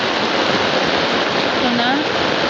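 Heavy flood rain keeps falling harder, a dense, loud, unbroken roar of water with a brief whistle-like tone near the end.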